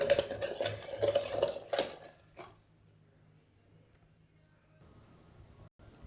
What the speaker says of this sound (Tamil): எல்லாத்தையும் போட்ட பின்னாடி நல்லா ஒரு தடவை இப்படி கடைஞ்சி விட்டுறலாம்